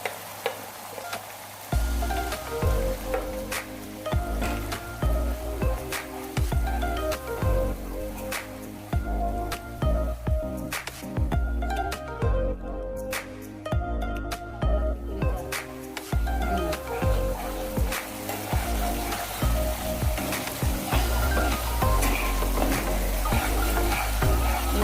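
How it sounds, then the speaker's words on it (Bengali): Beef liver cooks down in oil in a pan, Kashmiri style, giving a constant sizzle with repeated scraping and stirring strokes, wet squelches and a few sharp ticks, all close and steady. "এভাবে কষিয়ে যখন তেলটা বের হবে, দেখুন তেলটা বের হয়ে আসতেছে।"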